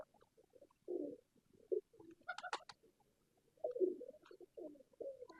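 Soft, low cooing of golden pigeons in a loft, several throaty coos repeating at irregular intervals, close but quiet, with a brief sharp clatter midway.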